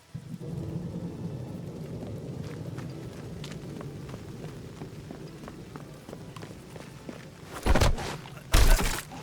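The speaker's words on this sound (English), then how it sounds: "every minute or so you'll hear the rumblings of the thunder" Thunder in the Sniper Elite Resistance video game, a low distant rumble under soft rain and footstep-like patter, ending with two loud cracking bursts close together.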